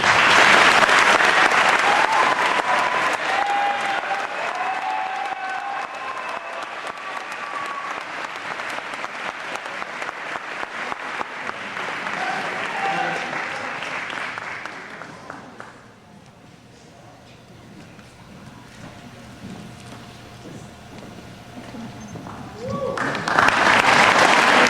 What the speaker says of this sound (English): Another round of applause for our cross-country team.